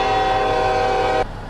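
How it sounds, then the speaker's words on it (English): A train-style air horn on a Kenworth K200 truck in Euro Truck Simulator 2 blares as one loud, sustained chord-like blast, then cuts off abruptly to leave a quieter engine background. "It's a train horn."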